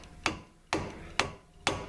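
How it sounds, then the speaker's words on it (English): A wooden hammer handle strikes a ratchet to break loose a bolt during a brake rotor job on a Pontiac G6, giving four sharp, evenly spaced metallic knocks with short ringing decays, fairly faint and with no talking. "just take your handle to your hammer"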